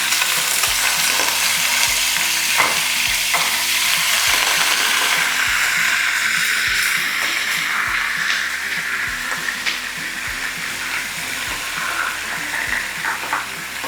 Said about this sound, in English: once your oil is hot, you go in with your minced beef